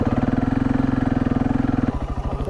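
A motorcycle ridden through soft desert sand in the Lut Desert of Iran on ordinary tyres, its engine droning steadily up close, then easing off and sputtering unevenly near the end.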